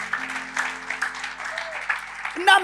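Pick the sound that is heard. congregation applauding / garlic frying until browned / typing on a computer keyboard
congregation applauding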